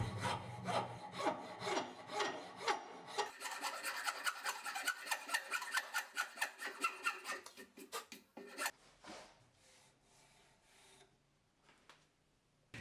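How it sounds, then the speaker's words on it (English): A metal file drawn over wood to smooth rasp marks, with rapid rhythmic rasping strokes that are steady and close, then slowing into fainter scrapes before quiet. "I'm gonna use the file to clean up the cut marks of the rasp"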